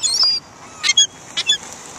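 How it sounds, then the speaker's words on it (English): Duck calling at a park, a few short nasal honks in two quick pairs, close and moderately loud over quiet outdoor background, with no talk. "Look at this duck."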